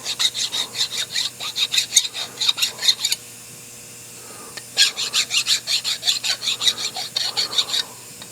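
A hand file deburrs a machined part for a nine-cylinder radial engine. Two runs of quick, regular rasping strokes come up close, each with about a dozen scrapes, separated by a short pause.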